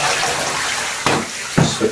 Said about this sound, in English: the board will just get a final rinse off with the shower